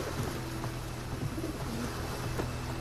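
A carrier pigeon coos faintly in a boat or waterside setting, soft repeated low coos under a steady background hum.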